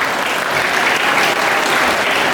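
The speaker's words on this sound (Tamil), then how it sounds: "நீங்கள் ஒரு பலமான கைத்தட்டலை வழங்குவீர்கள்" An audience at a Kamarajar birthday celebration at Don Bosco, Tirupati, breaks into strong, dense applause, loud and even throughout with no pause or voices.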